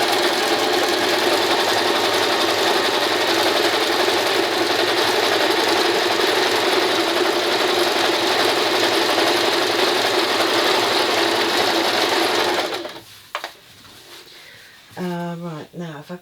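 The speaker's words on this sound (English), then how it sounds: "I'm going to carry on just stitching" A sewing machine runs continuously and close while stitching a patchwork curtain panel, a steady buzzing whir lasting about twelve seconds before it stops, followed by someone speaking.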